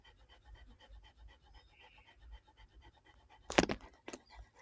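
A hound pants heavily nearby in quick, rhythmic breaths that repeat steadily and softly, broken near the end by a couple of sharp scratching or jangling bursts.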